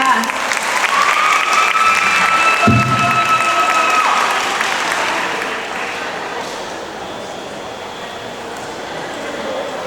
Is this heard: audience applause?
yes